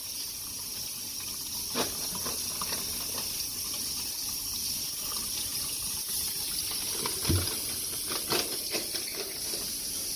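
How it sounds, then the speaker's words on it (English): Tap water runs steadily over thawed shrimp in a kitchen sink, a continuous close splashing rush with a few brief louder clatters and knocks. "So we done rinsed off our shrimp."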